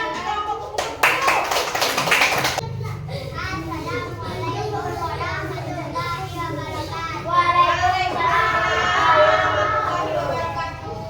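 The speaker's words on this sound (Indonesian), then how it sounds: "Kasih tepuk tangan untuk kelompok kupu-kupu." Children in a classroom clap for a student group, a burst of brisk clapping that gives way to lively kids' chatter and voices continuing throughout.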